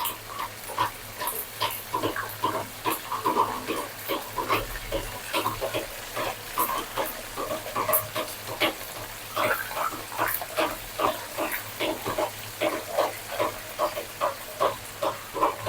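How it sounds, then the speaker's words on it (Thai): Chicken wings frying in oil with fish sauce sizzle and pop steadily, with irregular crackling bursts repeating throughout over a low continuous hiss. "ทอดไปเรื่อยต่อนะครับ"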